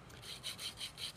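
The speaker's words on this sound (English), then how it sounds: "when I just gently pull on this, I have my tissue paper sanded off." Tissue paper being sanded and gently pulled off the edge of a model aircraft wing, heard as four or five rhythmic, hissy rubbing strokes close by, with no talking.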